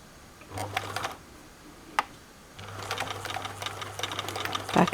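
Domestic sewing machine stitching slowly through thick, bumpy layers of jumpsuit fabric, in two bursts of steady motor hum and rapid needle ticking separated by a short pause, close and clear with no talk.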